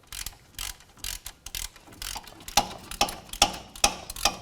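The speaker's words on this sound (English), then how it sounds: "now I'm going to start using the 17mm ratchet and socket to tighten it down" A 17mm ratchet and socket tighten the hub bolts on a Toyota RAV4 front wheel hub, giving a close, quick run of crisp, evenly spaced clicks with no talk.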